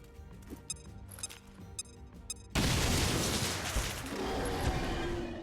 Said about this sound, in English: let's grenade him to soften him up. Frag out.